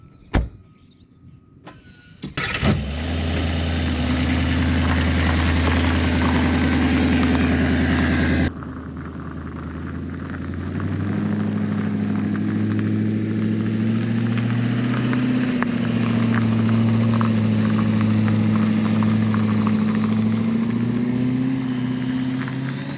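A lifted pickup truck cranks over and its engine catches, idling loudly before revving and pulling away down a road, with a steady engine drone and a rising tone as it drives off.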